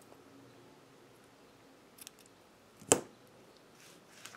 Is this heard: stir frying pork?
no